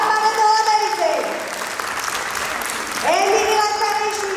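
An audience applauds at a children's studio New Year concert in 2023, a sustained wash of clapping that swells and fades, with a voice speaking over it.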